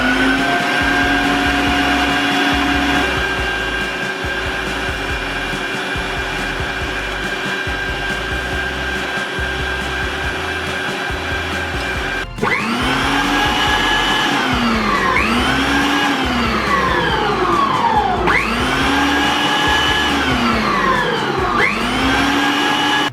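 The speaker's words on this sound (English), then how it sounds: "now I'm gonna use the whisk and whisk the egg white" Savisto stand mixer whisking egg white, a loud steady motor drone up close with a rhythmic low churning, the pitch shifting partway through into repeated swooping surges as the whisk speeds up.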